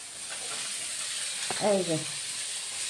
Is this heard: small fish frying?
yes